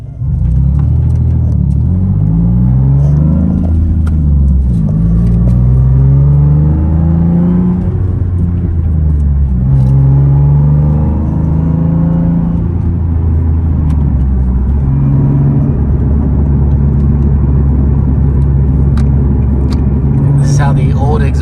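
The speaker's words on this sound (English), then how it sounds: "How the old exhaust sounds." A Nissan 370Z idles and revs on its old stock exhaust, a loud, steady low rumble swelling and dipping through several throttle blips from start to finish.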